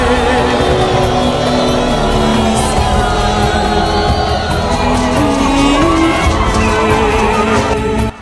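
A dense outdoor crowd at a political rally in Chirunga Centre cheers and shouts continuously, loud and close, with whoops and overlapping voices filling the whole stretch without a break.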